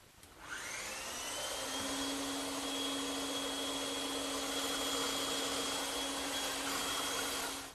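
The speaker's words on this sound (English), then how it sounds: "I'll cut it out on the bandsaw." A bandsaw cuts a curved wooden side piece for a coffee table, producing a steady close whirring hum with a high tone that starts, runs evenly for several seconds and then stops.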